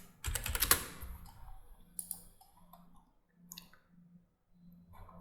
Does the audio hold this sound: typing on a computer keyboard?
yes